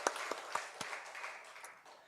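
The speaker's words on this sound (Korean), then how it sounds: "우리 하나님께 영광의 박수 올려드리겠습니다" A church congregation claps during a Sunday worship service, a short round of scattered applause that fades within about two seconds.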